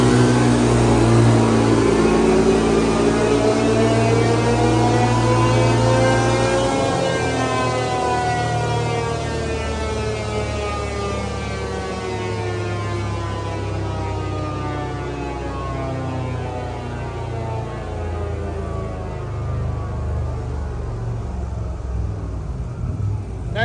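A CFMOTO engine idles and revs on a dyno, a loud, steady droning hum whose pitch sweeps up and down, rising early and then settling into a sustained high run.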